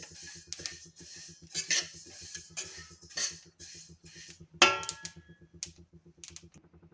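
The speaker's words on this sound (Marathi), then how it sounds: "तिळही छान भाजल्या जात आहे याला लालसर कलर येईपर्यंत तीळ आपल्याला भाजून घ्यायचे आहे" Sesame seeds roasting dry in a hot pan as a spoon stirs them, giving repeated light scraping and clinking with one sharper knock, close and fairly quiet.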